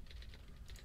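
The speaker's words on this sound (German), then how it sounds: "Ich höre pausenloses Tippen." Steady, continuous keyboard typing in the video game Alcatraz, a quiet, faint clatter of rapid keystrokes running without pause under a low background hum.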